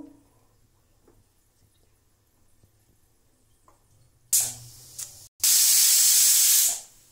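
After near silence, a pressure cooker whistle on a gas stove erupts in loud hissing steam bursts: a short blast, a brief pause, then a longer sustained shriek.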